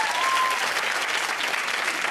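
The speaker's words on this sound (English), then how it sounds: "Can I just ask this audience, by way of applause" An audience at a British comedy show bursts into steady, dense applause, loud and continuous throughout with no break.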